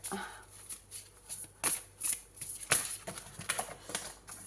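Tarot cards are shuffled and drawn, giving a series of soft riffling flicks and slaps at an irregular pace, fairly quiet and close, with no talking.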